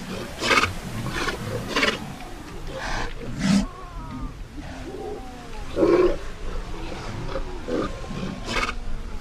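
A sea lion colony on the Atacama Desert coast, with repeated hoarse, roaring barks from several animals, some near and loud, others farther off, over a constant murmur of the group.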